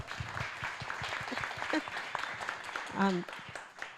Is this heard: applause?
yes